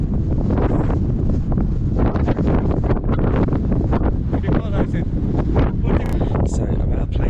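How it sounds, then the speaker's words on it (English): Strong, steady wind roars and buffets a microphone at Mud Volcanoes National Park near Baku, Azerbaijan, a loud continuous rumble filling the whole stretch with gusty fluctuations. "It's very windy here"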